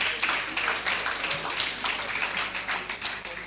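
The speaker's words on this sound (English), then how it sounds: "I thought we would give another applause to her." Applause from an audience at an insurance members' evening event, a steady patter of many hands clapping at moderate volume for a few seconds without a clear start or end.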